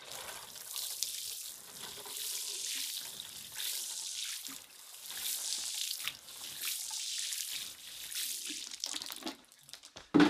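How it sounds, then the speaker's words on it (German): Water poured over the soil of a freshly repotted papaya plant, a steady soft splashing and trickling that runs for several seconds with a brief louder knock at the end. "Jetzt gießen wir es an."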